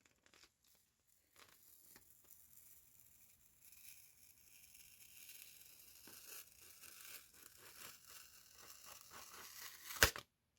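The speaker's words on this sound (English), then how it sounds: "We are going to have to peel it off." A sticky adhesive backing strip peeled slowly off a Dollar Tree LOL OMG coloring activity kit, giving a soft, drawn-out crinkly tearing close by that builds gradually and ends with a sharp snap as the strip comes free.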